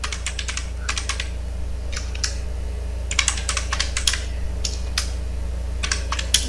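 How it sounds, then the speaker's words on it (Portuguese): Quick keystrokes on a computer keyboard while entering text for a logo design in Photoshop, clicking in short clustered bursts separated by pauses, close and clear over a steady low hum. "Vou clicar aqui em qualquer lugar e vou digitar aqui barbearia."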